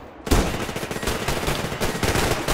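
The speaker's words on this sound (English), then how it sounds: "I shot two shots." Loud, close gunfire from a shotgun in the post-apocalyptic shooter Survarium, a dense burst of blasts that starts abruptly and keeps going without a break, with no talking over it.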